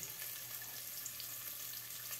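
Onions browning in a pan with yellow pepper give a steady, soft sizzle, a constant hiss that is quiet and even with no talk over it.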